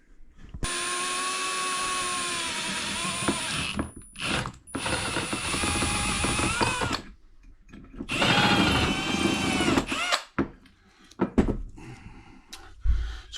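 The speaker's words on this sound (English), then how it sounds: "I'm going to go ahead and get set up and start drilling." A power drill gives a loud, steady mechanical whine for several seconds, stops briefly, then resumes in shorter bursts with pauses and clanks between, drilling a Torqueflite 904/727 transmission part.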